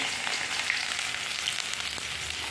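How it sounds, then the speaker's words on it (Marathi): Curry leaves, crushed garlic and ginger sizzle in hot oil in a kadhai, making a loud, dense hiss that holds steady through the short moment. "कढईमध्ये तेल टाकलेलं आहे तर त्याच्यात आपल्याला पहिल्यांदा कढीपत्ता टाकून त्याच्यानंतर लसूण आणि अद्रक ठेचून घेतलं ते टाकायचं"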